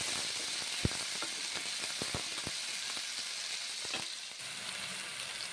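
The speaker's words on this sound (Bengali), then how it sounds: "গোটা জিরে দিচ্ছি, মশলা দিচ্ছি। মশলা তেলের সঙ্গে কষে নিচ্ছি।" Whole cumin and spices frying in mustard oil for chhana vada, a soft continuous sizzle with scattered small crackles and pops, close but fairly quiet and alone.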